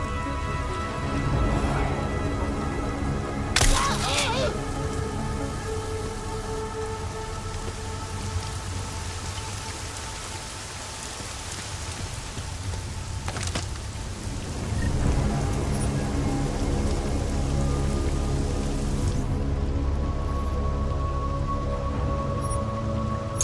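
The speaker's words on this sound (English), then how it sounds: "Rain to drown a duck." Heavy rain pours steadily in Deus Ex Mankind Divided, a loud, constant hiss of drops on surfaces with a few sharper splashes and a low rumble underneath, no voices.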